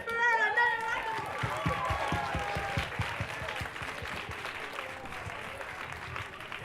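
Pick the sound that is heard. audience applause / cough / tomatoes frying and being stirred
audience applause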